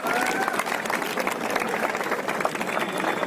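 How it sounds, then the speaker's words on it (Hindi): Steady, loud audience applause fills the whole stretch as a guest is welcomed onto the stage at a district-level National Science Day science model event, many hands clapping continuously without a break. "जोरदार तालियों से आपका स्वागत कीजिए।"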